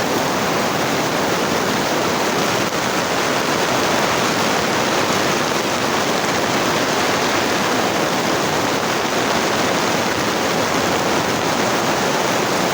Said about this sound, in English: the rain is here